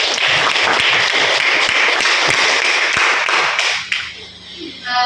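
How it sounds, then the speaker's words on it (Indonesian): Students in a classroom clap together for about four seconds, a dense, fairly loud patter that thins out and fades near the end. "tepuk tangan untuk"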